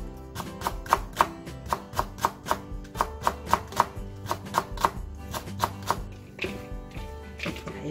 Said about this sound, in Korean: 두꺼우니까 가운데 썰어서 절반만 넣으셔요